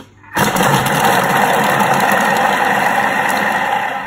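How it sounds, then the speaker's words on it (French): A Thermomix blends fish curry ingredients at speed 5 with the lid and measuring cup on, a loud, steady motor whir that starts abruptly after a brief quiet moment and holds without a break. "Et on va mixer tout ça 5 secondes,"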